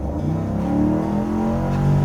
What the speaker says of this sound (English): get to about a rolling 20 miles an hour, right there, and then full pedal depression